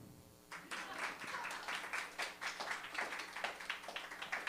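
Audience applause fills a room at an open mic, a dense crowd of claps that starts abruptly and carries on steadily, moderately loud and close, with no one talking over it.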